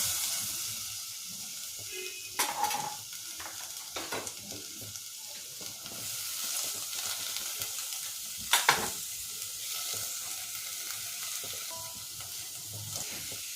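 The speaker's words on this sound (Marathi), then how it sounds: "आता फटाफट ह्याच्यात घालूयात आपल्या सर्व भाज्या." Mixed vegetables, including green bean pods and carrot, hit roasted spices in a hot pan and give a soft, steady sizzle, with a few sharp stirring clinks and scrapes along the way.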